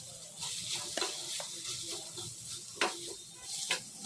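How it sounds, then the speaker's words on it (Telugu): Boiled chicken pieces frying in a pan for a chicken salad, a steady broadband sizzle with scraping stirs and a few sharp clinks of a spoon against the pan. "తర్వాత ఇందులో మనం ఉడికించి పెట్టుకున్న చికెన్ను ఇందులో వేసుకొని కొంచెం 1 నిమిషం ఫ్రై చేసుకోవాలి."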